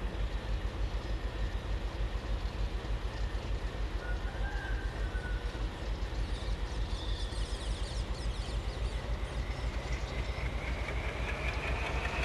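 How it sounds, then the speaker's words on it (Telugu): A diesel locomotive in a train simulator game rumbles steadily with a continuous low engine drone and faint rhythmic wheel clatter, fairly quiet and alone. "Diesel locomotive."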